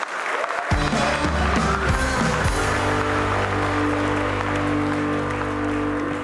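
Studio audience breaks into applause at a comedy show, a sudden burst of many hands clapping that stays loud and dense and then slowly thins toward the end.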